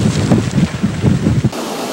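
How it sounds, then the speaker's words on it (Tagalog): Strong typhoon wind from Typhoon Ompong buffets the microphone on the Ilocos Sur coast, a loud, gusty roar with churning surf underneath that drops off abruptly near the end. "ngayon lang talagang umaabot sa ganito kalakas ang hangin dito."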